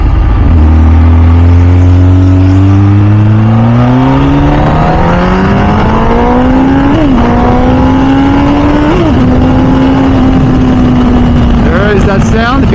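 MV Agusta F4 Senna motorcycle fitted with an RG3 race exhaust, revving loudly and close up; the pitch climbs in a long rising sweep, then holds high with brief blips around seven and nine seconds.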